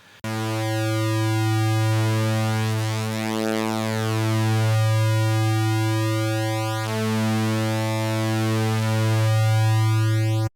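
A steady Air Hybrid 3 synthesizer sine wave tone with a low fundamental and bright upper harmonics that switch on and off in long repeating blocks, sustained and loud.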